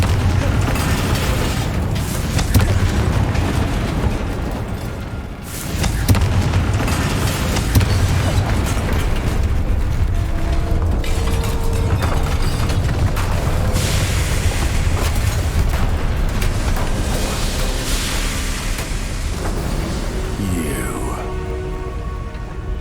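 Confringo blasting spell in the Hogwarts Legacy video game: a loud, dense wash of booming blasts and crackling debris that runs continuously for over twenty seconds, with a brief dip partway through and no talking.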